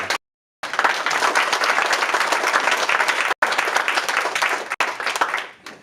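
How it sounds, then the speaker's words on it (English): A community-meeting crowd in Lewisburg applauds for a state governor, with dense, loud clapping that begins after a short silence and carries on steadily, briefly cut off twice, then fading out at the end. "Let's give him an applause for that."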